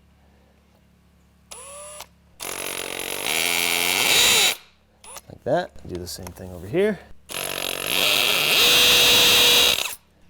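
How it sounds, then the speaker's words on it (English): A corded hammer drill set to hammer mode with a masonry bit drills screw holes for an exterior door threshold, running in two long loud bursts with a shorter blip before them and someone speaking between bursts. "Put this in my hammer drill."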